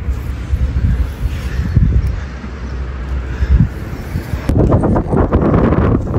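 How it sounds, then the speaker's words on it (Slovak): Wind blows hard outdoors at a bike park, buffeting the microphone with loud, rough low rumbles and gusts that surge and ease throughout, growing harsher toward the end. "Trošku tu fúka vietor, tak neviem, či ma bude počuť"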